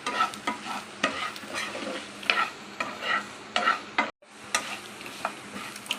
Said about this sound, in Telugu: బియ్యం పిండి వేసుకొని కూడా ఒక 5 మినిట్స్ ఫ్రై చేసుకుంటే చూడండి క్రిస్పీగా బ్రౌన్గా కనిపిస్తుంది